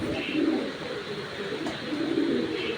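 A red checker racing pigeon makes two low, throaty coos, one near the start and one near the end, over a steady bed of noise from a storm outside.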